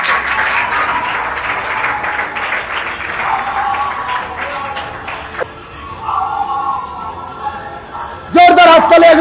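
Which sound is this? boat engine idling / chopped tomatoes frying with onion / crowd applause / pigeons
crowd applause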